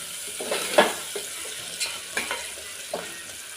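Onions and potatoes fry in oil in a pan over medium flame, a steady sizzle with a few sharp scrapes and stirring knocks scattered across it.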